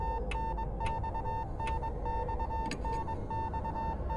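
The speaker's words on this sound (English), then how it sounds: "There's an incessant beeping like from a telegraph." Incessant telegraph-like beeping in the horror game Death Mark: short repeated tones pulse at an uneven rhythm over a steady low ambient drone, with no voices.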